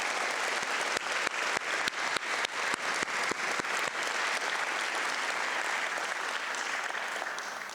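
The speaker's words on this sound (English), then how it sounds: "Students, can you please give the staff who have supported you along this journey a round of applause as well?" Audience applause for school staff at an evening awards ceremony, a dense sustained clapping from a large crowd with sharp individual claps standing out early on, lasting the whole stretch and tapering slightly at the end.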